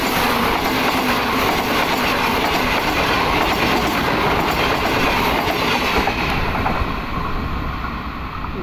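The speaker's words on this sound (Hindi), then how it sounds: "इसकी लीड पर है GEU24562 लोकोमोटिव।" A locomotive-hauled train led by a GEU-class diesel locomotive runs steadily on rails, a loud continuous rumble with rhythmic wheel clatter and a faint high squeal throughout.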